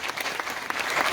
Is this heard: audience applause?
yes